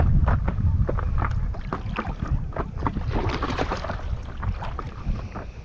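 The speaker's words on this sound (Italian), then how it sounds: "Oggi c'è il vento però." Wind buffets the microphone out on the water beside an inflatable stand up paddle board, a loud continuous low rumble with irregular gusty thumps and no talking.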